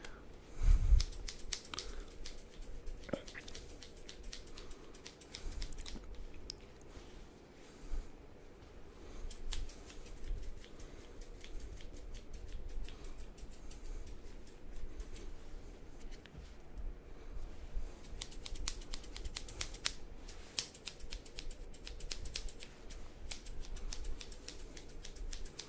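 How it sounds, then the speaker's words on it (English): Barber's scissors snipping hair during an ASMR haircut, a long run of quiet, close, rapid clicking snips with a soft background hiss and no talk. "I like the sound of scissors as well. It's a soothing sound almost."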